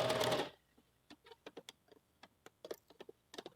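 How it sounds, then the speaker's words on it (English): A sewing machine stitches a puff sleeve into a blouse; a brief loud whir opens, then soft, irregular ticks and taps follow as the fabric is guided through. "Move the fabric around so that it's fed in straight into your sewing machine."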